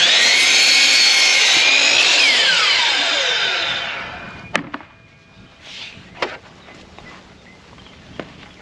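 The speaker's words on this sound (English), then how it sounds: "Even with a 12-inch sliding miter saw, it still doesn't get it in one hit." A 12-inch sliding miter saw cuts through wood with a loud, high whine that slows and fades as the blade spins down, followed by a few sharp clicks and knocks.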